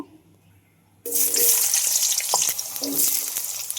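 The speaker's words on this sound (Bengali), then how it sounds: "প্রথমে আমি আলুগুলোকে ভেজে নেব" Potatoes hit a hot wok and start frying, a loud broadband sizzle that bursts in suddenly after a quiet moment and holds steady with scattered crackles and small clinks.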